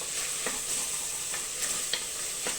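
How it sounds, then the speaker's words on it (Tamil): Mutton sautéing in a pan gives a steady, close sizzle with a few soft spatula scrapes against the metal. No voices are heard. "இப்போ பாருங்கள் மட்டன் வந்து நல்லா வதங்கிடுச்சு ஒரு பத்து நிமிஷம் நம்ம அப்படியே வதக்கி விட்டுடலாம்"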